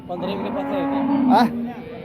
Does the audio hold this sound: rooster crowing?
no